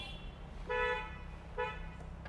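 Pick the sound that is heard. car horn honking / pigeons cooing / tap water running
car horn honking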